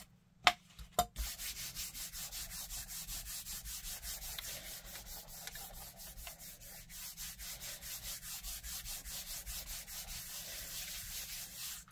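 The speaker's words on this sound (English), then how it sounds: "Give it a good burnish." Steady, rhythmic rubbing strokes burnish a surface by hand, a continuous dry scraping texture repeating at an even pace for several seconds after two sharp taps at the start, fairly close with no talking.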